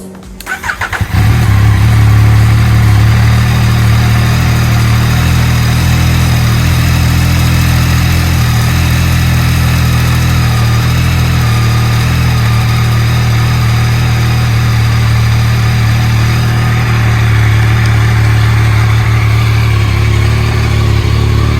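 A 2021 Yamaha MT-09 motorcycle engine cranks and fires right after a fresh oil change, then settles into a loud, steady, smooth idle that runs unbroken at close range with no voices.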